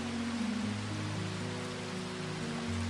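Soft, steady rain falls in an even, continuous hiss with no breaks, no other sounds and no voices.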